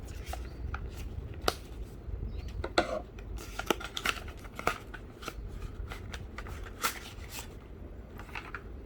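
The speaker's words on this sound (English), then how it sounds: "let me just unbox this" A Monster Hunter Rise game storage card package is unboxed close by, with scattered crinkles, taps and rustling clicks of packaging being handled, quiet and irregular, with no speech.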